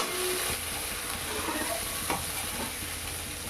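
After water is added, a pan of Bengali bhetki fish kalia with poppy-seed paste sizzles steadily and loudly, broken by a couple of brief stirring knocks, with no voices.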